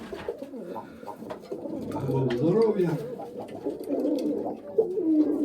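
Mykolaiv pigeons coo in soft, repeated throaty calls close by, with a man's brief remark and light background murmur over them.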